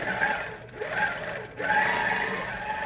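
An HQ Avanté longarm quilting machine stitches during free-motion quilting, giving a steady mechanical hum and whir that dips briefly twice, close and fairly quiet.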